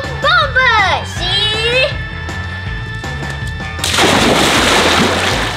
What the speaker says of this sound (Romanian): Și acum, Mircea, tu cum sari în apă? Dar acum, bombă